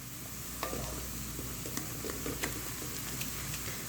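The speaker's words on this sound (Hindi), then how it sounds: "थोड़ा सा इसको बस हम शैलो फ्राई करते हैं प्याज को" Onions shallow frying in about half a cup of oil for restaurant-style white daal mash, a steady close sizzle with occasional clinks and scrapes of stirring, no voices.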